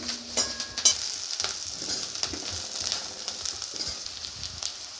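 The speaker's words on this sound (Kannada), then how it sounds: "ಇದಕ್ಕೆ ಬೆಳ್ಳುಳ್ಳಿ, ಹಸಿಮೆಣಸಿನ್ಕಾಯಿ ಮತ್ತು ಕರಿಬೇವನ್ನ ಸಪ್ರೇಟ್ ಹುರ್ಕೊತಾ ಇದ್ದೀನಿ" Garlic, green chillies and curry leaves fry in hot oil with a close, steady crackling sizzle and occasional sharper pops and stirring clinks throughout.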